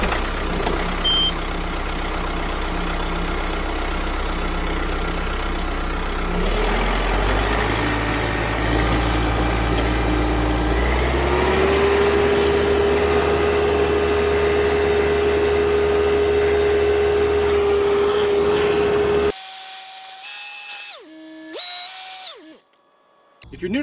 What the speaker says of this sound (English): Might rev up and cycle it a few times, you know,